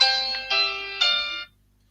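A bright electronic alarm chime rings three times in quick succession, each tone sustained then cut off, leaving silence.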